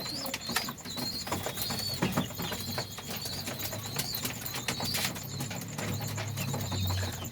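A flock of pigeons feeding on wheat grain in the evening, with steady wing flaps, soft coos and scattered pecking across a busy, continuous bed of bird noise close by.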